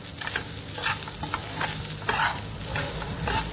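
Broccoli rice is stirred in a hot pan with a spoon, giving repeated scraping strokes over a steady low sizzle, close and fairly loud.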